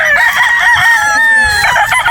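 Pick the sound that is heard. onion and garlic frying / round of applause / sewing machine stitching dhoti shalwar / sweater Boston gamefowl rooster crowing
sweater Boston gamefowl rooster crowing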